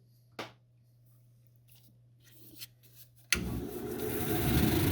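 A brown onyx cabochon being ground on a fresh 80 grit wheel: quiet taps and a low hum, then the grinding starts abruptly as a loud, steady, gritty rasp that builds in the last second and a half.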